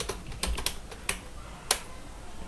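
Keys tapped on a computer keyboard in a short run of separate clicks, close and fairly quiet, with a few louder strokes spaced irregularly and no talking.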